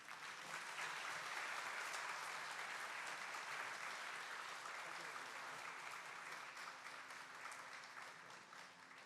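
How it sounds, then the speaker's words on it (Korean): Sustained applause from a church congregation during a Sunday worship service award presentation, dense and even clapping that holds steady throughout and fades slightly toward the end. "박수로 격려해 주시기 바랍니다."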